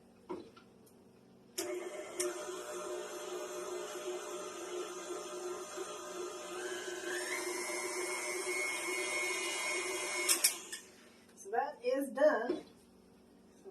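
An electric mixer with a paddle attachment whirs steadily through cupcake brownie batter, starting abruptly, shifting pitch partway, then stopping; a voice talks briefly near the end.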